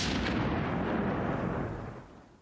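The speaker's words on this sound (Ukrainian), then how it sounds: "За секунду лунає потужний вибух." A powerful explosion booms and rumbles, a loud broad roar that holds for about two seconds before fading away.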